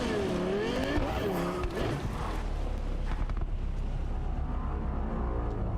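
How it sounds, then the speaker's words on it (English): A loud car engine roars and revs continuously over several seconds, with rising and falling whines, in a racing game heard on a livestream. "Yeah, the car is really fucking loud."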